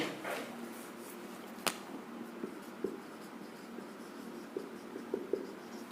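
Marker writing a flowchart on a classroom board, with faint squeaks and scattered small taps of the pen against the surface, quiet and close with no talking.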